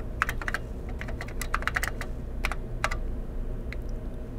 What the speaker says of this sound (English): You can type here.